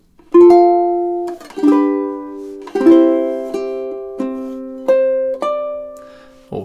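Ukulele plays measures 11 and 12 of a song, a handful of ringing plucked chords and notes struck on the beats, close and clear with no talk.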